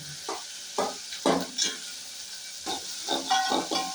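A spoon stirs banana flower and prawn curry in a frying pan, giving a run of short scraping sizzles, close and distinct, with no talking.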